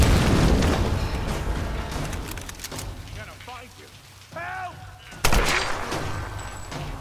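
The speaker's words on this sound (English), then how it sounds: "Grenade launch." Grenade launcher shots and explosions in Tomb Raider, a burst of gunfire and booms early on, then a sharp loud blast later, with someone talking over the action and voices in between.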